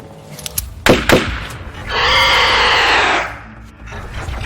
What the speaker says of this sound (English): It clamored as it barreled its way through the vents.